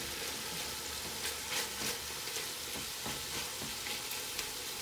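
Meat fries steadily in a pan for a Mardi Gras dish, fat rendering and the surface browning, giving a continuous close crackling sizzle with scattered pops and scraping stirs, no voices.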